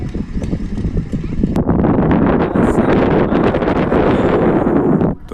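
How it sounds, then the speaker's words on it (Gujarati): Strong, cool sea wind at Gopnath beach in Gujarat buffets the microphone with a loud, continuous rumbling roar that cuts off abruptly at the end. "તો દરિયાની અંદર ખૂબ મજા આવે છે અને પવન આવે છે ટાઢો ટાઢો."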